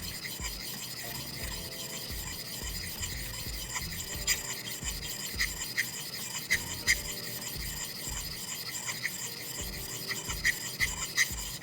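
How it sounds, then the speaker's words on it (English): A straight razor is stroked back and forth across a Norton 1000 grit hone with light pressure, producing repeated soft rasping swipes in a steady rhythm, close up and without any voices. "And I just do 50 strokes back and forth."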